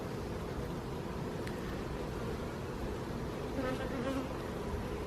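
Honeybees swarm around an open nuc box during a hive transfer, a dense continuous buzzing hum that stays close and loud for the whole stretch with no talking.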